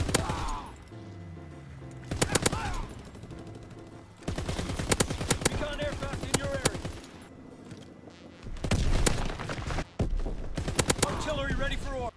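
Automatic fire from the LAD machine gun in the Call of Duty WW2 video game comes in several loud bursts separated by short gaps, with a quieter stretch near the start.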